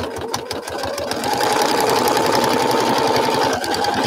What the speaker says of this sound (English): I need to sew up this seam